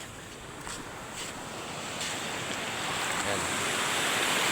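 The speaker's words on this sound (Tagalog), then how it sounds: "Ayan ang dagat sa probinsya ng Mindoro" Sea surf washes steadily onto a beach in Occidental Mindoro, a continuous broadband roar with wind buffeting the microphone, gradually swelling louder; someone speaks briefly near the start.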